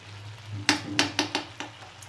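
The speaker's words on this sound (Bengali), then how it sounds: "এবার আমি এটা দিয়ে নেড়ে দিচ্ছি।" A spoon stirs turnip curry with chopped coriander, garam masala and ghee in a pan, making about six sharp clinks and scrapes at an uneven pace over a low background hum.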